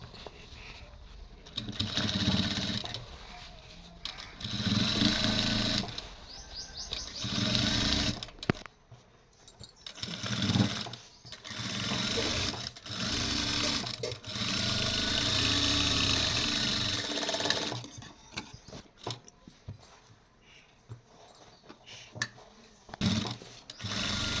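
Sewing machine stitching handbag sheets, running in repeated bursts with short pauses, close and fairly loud, with no talk.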